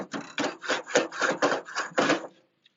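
Metal grill grates being scraped clean with a brush or scraper after cooling, a close, loud run of about eight rhythmic rasping strokes with no talk.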